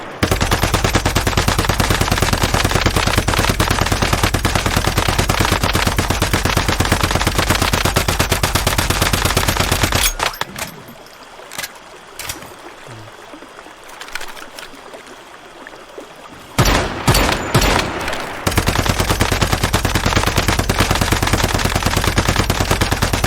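Rapid pistol gunfire in the video game Once Human, loud and dense continuous bursts for about ten seconds, a quieter pause with scattered shots, then another sustained loud volley.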